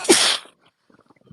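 A single sharp sneeze bursts out close and loud at the start during a livestream commentary, then gives way to near silence with a few faint, scattered noises.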